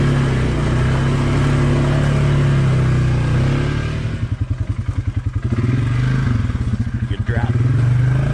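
A 450 dirt bike engine drones steadily while riding, dips into a lower chugging rhythm midway, then swells back up, close and loud, with wind noise over it.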